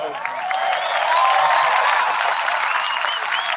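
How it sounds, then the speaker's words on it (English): Clapping and cheering from a small group on a podcast, a dense steady patter of hands with whoops and voices mixed in, close and fairly loud throughout. "You know we're gonna clap it up."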